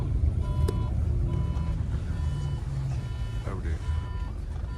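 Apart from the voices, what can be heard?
vehicle reversing to park, with reversing beeps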